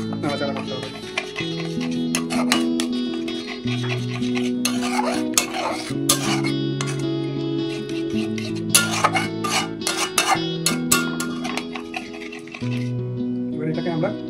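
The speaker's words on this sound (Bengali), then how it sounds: "পুরো জলটা অ্যাড করে দেওয়ার পর এটাকে ভালোভাবে নাড়াচাড়া করতে হবে।" Potol korma being stirred in a pan after water is added, with repeated scraping and clinking of a spoon against the pan over background music and talk.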